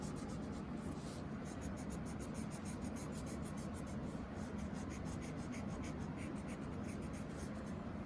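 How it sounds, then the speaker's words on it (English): A pencil eraser rubbing over paper to clear drawn letter lines, a continuous soft scratchy friction with quick repeated strokes, close and quiet. "we're going to go ahead and erase that."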